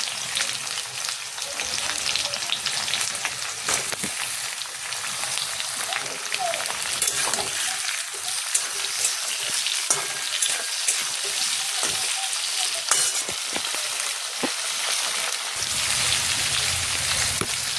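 Potatoes and vegetable stems fry in hot oil for a fish curry, giving a loud, continuous sizzle close by with occasional stirring scrapes and no talking.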